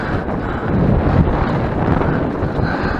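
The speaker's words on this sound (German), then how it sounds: "Hier oben geht ein bisschen Wind." Wind blows across a mountain top in the Black Forest, buffeting the microphone with a steady, rough rumble that swells slightly after the first half second and holds loud throughout, with no talking.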